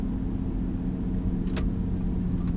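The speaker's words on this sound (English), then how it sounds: "quick little tour and test drive of my old 2010 Audi S4" A 2010 Audi S4 B8 cruising with its engine running steadily, a constant low cabin rumble and drone with a brief faint whoosh midway.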